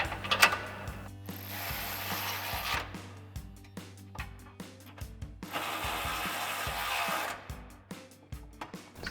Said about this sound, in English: we're gonna grab our 13 mil socket and small extension on our ratchet. We'll go ahead and tighten these down.